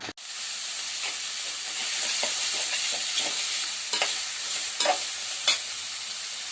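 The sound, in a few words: frying cooked boti (tripe) in oil in pan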